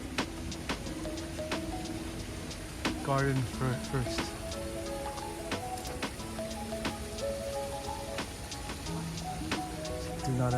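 Light rain ticks and patters steadily at a Tokyo Shinto shrine garden with old trees and bamboo, with scattered drips close by while a person talks over it.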